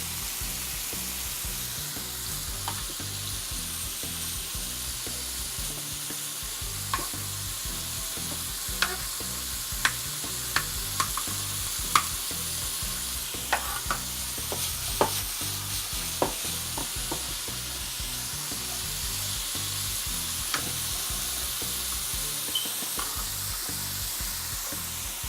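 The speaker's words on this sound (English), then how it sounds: "So now I'm just gonna stir the meat." Beef frying in a pan is stirred over a steady, close sizzle, with scattered light scrapes and clicks of the utensil against the pan across a long stretch, no voices.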